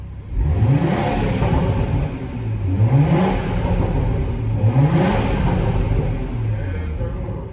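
A BMW 440i Gran Coupe xDrive engine revs repeatedly at a car wash, three rising pulls over a rumbling idle with voices talking in the background.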